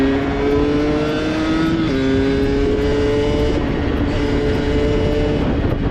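A Rieju MRT 50, a small 50cc two-stroke motorbike, revs steadily and loudly close by, its buzzing engine note rising and dipping across several throttle blips with no voices.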